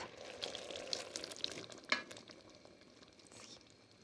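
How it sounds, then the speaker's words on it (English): Pureed pinto beans being stirred into an ancho tomato base in a pot, giving a soft, continuous wet stirring and faint sizzle with a few light clinks, close and fairly quiet, no talking. "So now I'm mixing the beans with a rich ancho tomato base"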